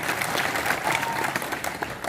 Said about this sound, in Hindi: एक बार तालियां बजाएं मन से।